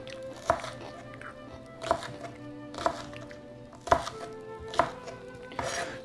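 A knife chops a small onion on a cutting board, five evenly spaced, close, firm thuds roughly a second apart, with a faint steady hum beneath.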